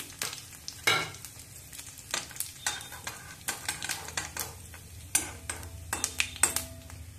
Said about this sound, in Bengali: এবার তেল গরম হয়ে গেলে এর মধ্যে গোটা জিরে, শুকনো লঙ্কা, তেজপাতা ফোড়ন দিয়ে দেব।